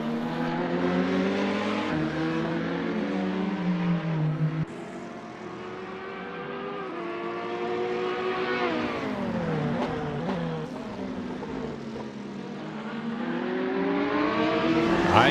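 Race car engines from a Gran Turismo race at Bahrain, a Ferrari and an Audi running close together, a loud sustained roar with rising and falling pitch as the cars shift gears and accelerate, no talk over it.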